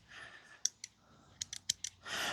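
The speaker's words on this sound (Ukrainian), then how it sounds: "Також тут є ножиці, вони також підпружинені." The spring-loaded scissors of a NexTool Black Knight multitool snap open and shut in a quick series of sharp, faint clicks, close up in a quiet room.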